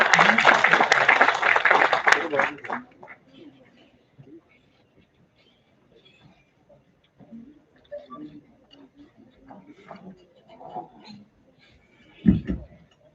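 Audience applause at a finance conclave for the incoming moderator, a short burst of clapping lasting about two seconds that stops abruptly and gives way to quiet room noise and speech.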